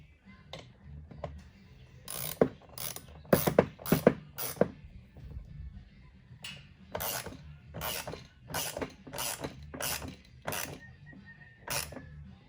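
A 3/8 ratchet snugs a bolt while a Utopia backrest is fitted to a Vespa 300 GTS, giving close, crisp clicking in quick runs: a cluster of clicks early on, then a steadier string of evenly spaced clicks, with no talking.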